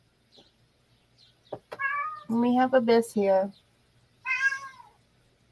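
Domestic cats meow in a few short, chatty calls close by, with someone speaking briefly between them in a quiet room.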